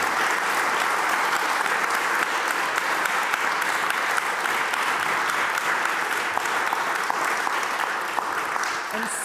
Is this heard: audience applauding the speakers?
yes